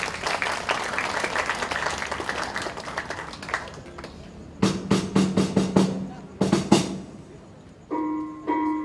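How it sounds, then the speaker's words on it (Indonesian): Audience applause at a Javanese traditional performance of Cupu Manik Astagina, a dense wash of clapping for the first few seconds, then scattered sharp claps and percussive hits mixed with brief tonal sounds. "Tepuk tangan."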